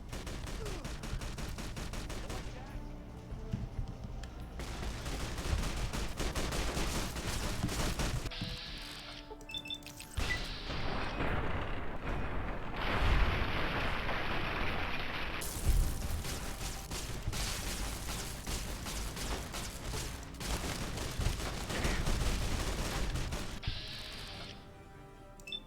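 Sustained gunfire in the video game Fallout: New Vegas, with dense overlapping shots and bursts running almost without pause and a few short lulls.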